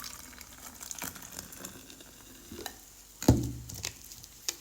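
Coke soda poured into a container before a Coke and Mentos experiment, giving a soft, faint fizzing hiss with a brief louder splash and clunk partway through.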